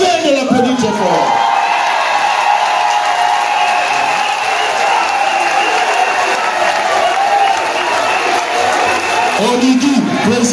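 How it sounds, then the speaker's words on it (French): A large crowd at a political rally in Gabon applauds and cheers loudly and continuously, with whoops rising over the dense, steady clapping throughout. "Maintenant que nous avons Josué, je vous demande de vous lever et de l'applaudir très fort."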